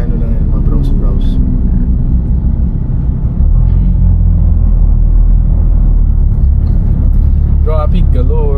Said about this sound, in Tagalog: Traffic galore.